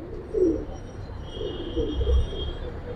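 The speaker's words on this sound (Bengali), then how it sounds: "এটা হচ্ছে পুরান লাইনের পুরান জাতের হ্যামার কবুতর।" Old-breed hammer pigeons give soft, low cooing in a few short bursts, fairly close, over a faint steady background hum.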